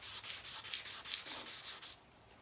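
Hand-sanding a car headlight lens with 500-grit sandpaper, about nine quick, even back-and-forth rasping strokes, close and soft, with no talking.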